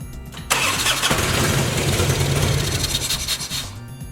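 A choked Harley motorcycle engine with a new battery cranks and catches after about half a second, then runs loud, rough and close for several seconds before easing slightly. No one speaks.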